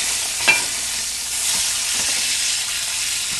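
A heart flipped in a hot pan fries with a loud, steady sizzle and hiss, with a short clatter near the start as it turns and soft stirring scrapes afterward.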